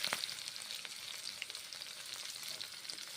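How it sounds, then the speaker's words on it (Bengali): Onions fry in hot oil in a wok, giving a soft, even crackle and sizzle with scattered faint pops throughout. "পেঁয়াজ ছেড়ে দিলাম গরম তেলে কড়াইয়ে"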